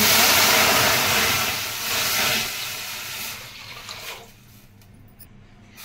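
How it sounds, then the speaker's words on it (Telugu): Two glasses of water go into a pan of freshly fried spices for ajwain rasam, raising a loud, steamy sizzling hiss that slowly fades over several seconds before dropping away, with no talking. "మనం ఇప్పుడు వాటర్ వేసుకుందాం"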